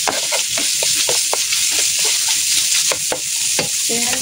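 Ginger and garlic stir-fried in a wok with wine, a continuous close sizzle broken by repeated scraping and stirring strokes of the spatula.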